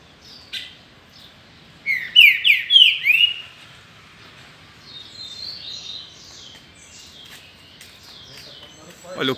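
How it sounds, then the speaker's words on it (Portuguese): A green-winged saltator (trinca-ferro) sings in bright bursts of whistled, chirping phrases, a loud cluster early on followed by softer, more scattered notes, with faint background noise and another bird calling further back. "Olha o canto desse passarinho"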